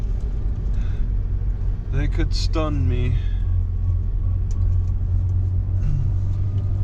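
A car rolls through light traffic in Fort Stockton, Texas, its steady low road rumble and engine hum running throughout while someone speaks briefly over it.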